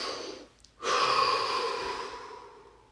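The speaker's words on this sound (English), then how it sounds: "Drop your hands and take a deep, deep breath." A deep, deep breath during a relaxation exercise: a short quiet pause, then a long airy close-up inhale or exhale that slowly fades over the rest of the clip.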